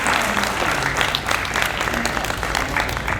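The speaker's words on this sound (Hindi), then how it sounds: "तालियां बजाते चलिए ताकि मेरा हौसला बना रहे आपके पास।" An audience at an evening event keeps up steady applause, a dense, continuous wash of many hands clapping, with some faint murmuring voices underneath.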